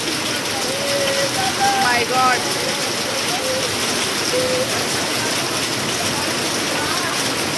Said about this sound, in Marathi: किती जोरात मोठ्या मोठ्या गारा.